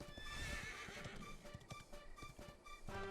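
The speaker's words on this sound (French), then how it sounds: "On y va à cheval, hein, on s'embête pas." A horse in the Dragon Quest XI video game gallops with rapid, steady clip-clop hoofbeats and a whinny, set against game music, with no one talking over it.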